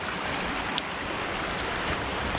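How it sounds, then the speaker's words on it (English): Continuous rushing water from nearby Board Camp Creek, a steady broadband hiss with no pauses or voices. "You can hear the Board Creek in the background"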